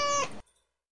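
A cat meows once after being woken from sleep, a single short, close, drawn-out cry followed by silence.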